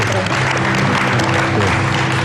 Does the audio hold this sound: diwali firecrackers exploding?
no